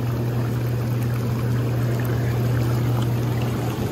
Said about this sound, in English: let me go ahead and turn the jets on